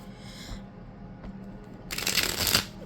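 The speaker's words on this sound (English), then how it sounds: "I'm still very much able to riffle shuffle this tiny deck and bridge it as well" A small tarot deck being riffle shuffled by hand, with soft taps and a sharp, dense burst of flicking cards near the end, close and clear with no talking.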